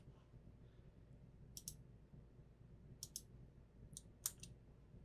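Faint computer mouse clicks, mostly in quick pairs at irregular intervals, sound while someone works in LightBurn laser software, set against a low background hum with no talking.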